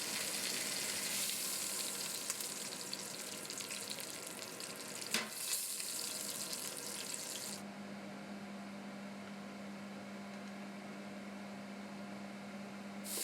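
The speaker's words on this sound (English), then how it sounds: "you're now going to brown them in a little bit of olive oil, just like so" Lamb shanks browning in a little olive oil in a pan, giving a steady, low broadband sizzle with a brief clatter midway. A faint constant hum runs through the latter half.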